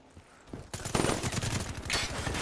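Razorback submachine gun fire in Call of Duty: Black Ops 3 rattles out as loud, rapid bursts of shots, starting faint and quickly building into sustained automatic gunfire.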